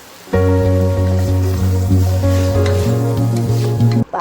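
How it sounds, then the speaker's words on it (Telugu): Vegetable pulao with masala, coriander and mint leaves is fried and stirred in a pan, heard as a loud, steady close sizzle under a strong continuous hum that cuts off abruptly at the end. "కలుపుకొని ఫ్రై చేసుకుందాం ఇందులోనే కొద్దిగా కొత్తిమీర ఆకుని పుదీనా ఆకుని తీసుకొని మిక్స్ చేసుకుందాము"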